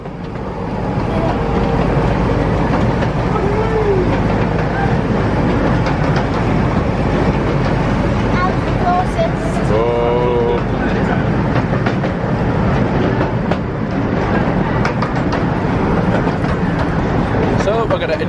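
Lightwater Valley park train rolling slowly through a tunnel at about five miles an hour, a loud steady rumble with wheel clatter and squeals, under ongoing talk.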